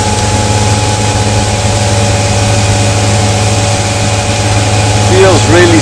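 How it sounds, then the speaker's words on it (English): A steady, droning diesel engine hum from a 2018 Sea Ray Sundancer 290 boat runs throughout at constant loudness, with faint whistling tones near the end. "The engine is a bit more noisy than the gasoline option"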